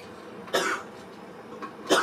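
Two short, sharp coughs a little over a second apart, fairly close, with a quieter throaty rasp between them.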